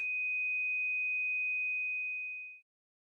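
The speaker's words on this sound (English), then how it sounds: "2500 Hz." A 2500 Hz pure sine test tone holds clean and unwavering for about two and a half seconds, then fades and cuts off into silence.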